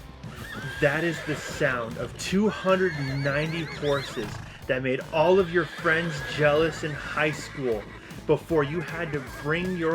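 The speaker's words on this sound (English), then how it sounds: "Do you hear that? That is the sound of 290 horses" A horse neighing sound effect whinnies repeatedly in loud, wavering bursts across the stretch, mixed with someone talking over it.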